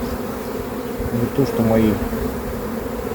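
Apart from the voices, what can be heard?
honeybees buzzing at an opened hive frame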